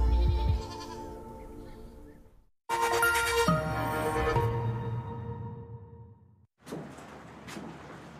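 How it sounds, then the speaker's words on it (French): Goats used for eco-grazing bleating, several loud nasal calls in close succession, then a pause and another shorter bleat with a shuffle of background noise. "on utilise même des chèvres pour faire de l'éco-pâturage"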